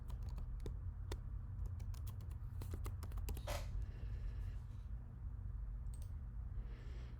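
Password being typed on a computer keyboard, a quick run of close, light key clicks over a steady low hum, then a pause and a few final taps.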